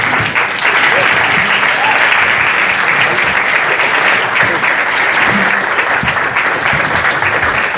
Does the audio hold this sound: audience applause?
yes